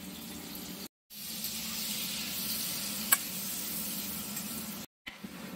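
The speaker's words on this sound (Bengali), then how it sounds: "এরপরে তেলের মধ্যে দিয়ে দেবো কুচিয়ে রাখা পেঁয়াজগুলো" Chopped onions sizzle steadily in hot oil in a pan, a close, even hiss with brief breaks where the sound drops out.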